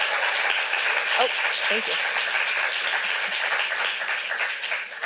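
A theater festival audience gives sustained applause for a young playwright from Addison Repertory Theater, a dense, even crackle of many hands, with a brief spoken thanks partway through.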